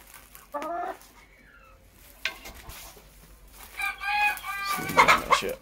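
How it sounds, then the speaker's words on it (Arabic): A hen clucks in short, repeated bursts, close by, with quieter gaps in between and a louder flurry of clucking toward the end. "صوتها على الطبيعة، صوت جميل جدا وراها."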